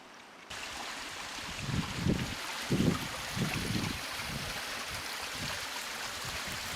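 Water from a mountain waterfall on a wilderness creek trail rushes in a steady, broad wash that is fairly close and continuous, with a few louder surges partway through.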